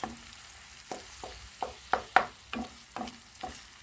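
Eggs cook in a pan as a utensil stirs them, giving a run of crisp scraping strokes roughly every half second over a faint sizzle, close and clear with no talking.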